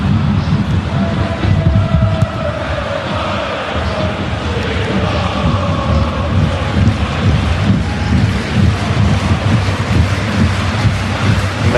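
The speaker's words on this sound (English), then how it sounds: "it is a steady stream of rain that you may be able to hear." Steady rain pours over a football stadium during an Africa Cup of Nations match between Tunisia and Uganda, a dense continuous hiss with a low crowd murmur and faint broadcast sounds beneath it.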